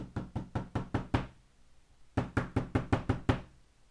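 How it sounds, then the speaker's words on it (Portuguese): Someone knocks on a house door at night in two insistent rounds of about six or seven sharp, evenly paced raps each, close and clear, separated by a second of silence. "ouvimos bater a porta."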